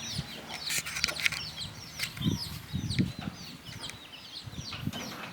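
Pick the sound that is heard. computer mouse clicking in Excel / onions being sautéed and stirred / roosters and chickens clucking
roosters and chickens clucking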